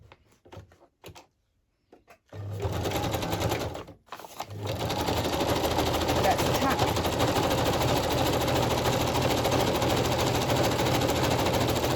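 Sewing machine stitching down journal book pages: a few short stuttering starts, then a long steady run of continuous stitching, close and fairly loud.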